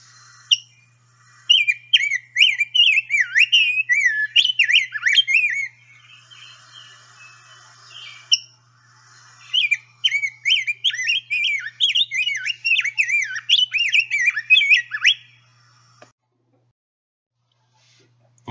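A singing male songbird alternates bursts of warbled song with sharp eek calls, two long phrases of rapid notes separated by a pause, close and clear against a quiet background.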